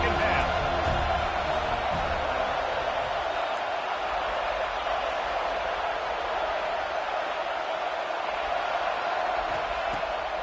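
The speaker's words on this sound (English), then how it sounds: "This crowd still bringing the intensity to open the second half." A stadium crowd at a football game roars steadily from the stands at the start of the second half, a loud, sustained wash of cheering that swells slightly early on and then holds at an even level.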